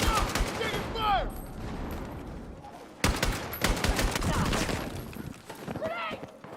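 Battlefield gunfire in rapid bursts and single cracks, loud and close, with a sharp heavy volley midway, mixed with shouted voices.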